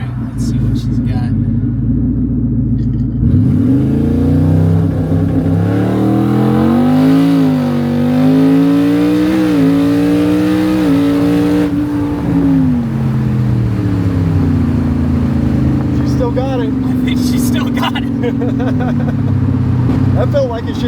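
A twin-turbo Ford F150 pickup with a new transmission, tuned to about 1,000 horsepower and in four-wheel drive, accelerates hard from inside the cab. The engine note climbs and drops through several gear shifts while people talk over it.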